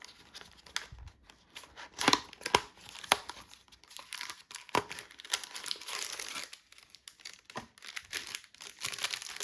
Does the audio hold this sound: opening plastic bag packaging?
yes